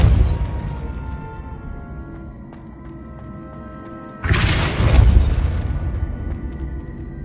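A Depulso spell is cast in Hogwarts Legacy, a sudden forceful whoosh and thudding blast that bursts in midway after a quiet stretch with faint ambient tones, then slowly settles.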